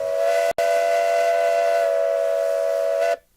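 A loud, steady train whistle sounds alone, one sustained tone cut by a brief gap near the start, then holding for about three seconds before stopping abruptly.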